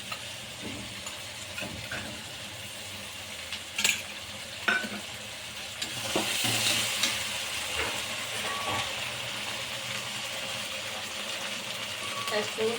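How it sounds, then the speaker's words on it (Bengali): Ginger-garlic paste with cumin, chili and pepper paste being fried with chicken and turmeric, a continuous close sizzle and hiss with intermittent clanks and scrapes of stirring throughout. "এবার মশলাটাকে আমি ভালো করে কষিয়ে নেব"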